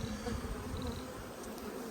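Honey bees swarm out of the roof of an opened grey hive during an inspection, a dense close buzzing hum that stays steady and moderately loud, with no voices.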